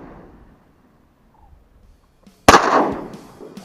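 A single loud shotgun blast fired at geese on a duck hunt rings out close and sharp after near silence, with a lingering outdoor decay and no talk.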